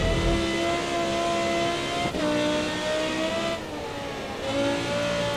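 An Audi race car in the racing video game Grid Autosport roars at steady high revs, with the pitch dropping at each gear shift and tires squealing underneath. The sound is loud, continuous and dense, with no talk.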